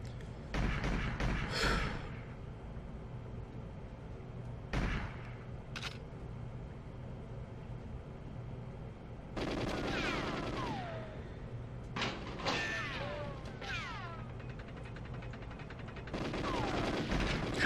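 D5K submachine gun fire in the GoldenEye video game at the Depot level comes in short, crisp bursts spread over several seconds, with electronic game music and effects between them.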